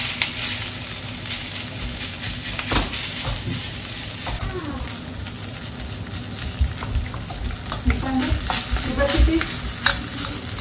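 Garlic, bacon and rice fry and get stirred in a hot pan, a steady close sizzle broken by scraping spatula strokes and a few louder clatters toward the end.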